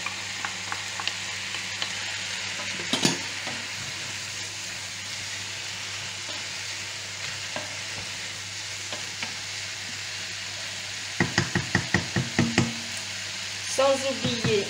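Leeks frying in a pan give a soft, steady sizzle throughout, with a brief clatter early on and a cluster of sharp stirring or scraping knocks near the end, quiet and close, with no talking.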